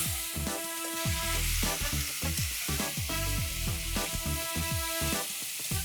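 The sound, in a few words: mutton with bone sauteing in a pan on high flame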